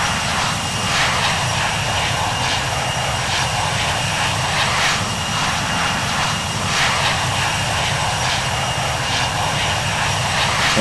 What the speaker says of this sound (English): Let's get this plane off the ground.